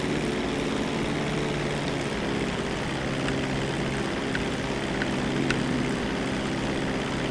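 The Mammoth Dodo seaplane in GTA 5 Online: a steady, loud propeller engine drone with a rough, buzzing tone that holds constant throughout, with no other sounds.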